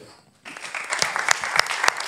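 After a brief quiet moment, an audience at a live event breaks into applause, the clapping building quickly into a steady crackle of many hands with a few sharper claps standing out.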